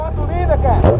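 A Honda CB 1000 motorcycle with an open exhaust revs up sharply in a short, loud burst, the engine pitch climbing quickly and then cracking near the end, with a voice briefly present.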